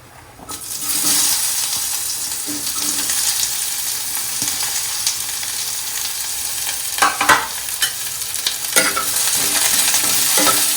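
Onions sizzling and frying in a pan for a coconut tomato chutney, a steady bright hiss with a few stirring scrapes near the end, close and continuous.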